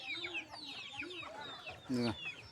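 Roosters clucking nearby in a village yard, several short rising calls in a row followed by a louder, harsher squawk near the end, fairly faint overall.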